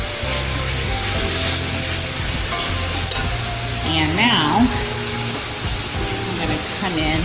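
Mongolian stir-fry with fresh basil sizzling in a hot pan while being stirred, giving a constant close frying hiss with scraping utensil strokes and a voice speaking faintly underneath.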